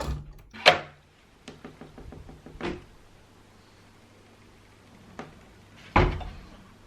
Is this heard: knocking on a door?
yes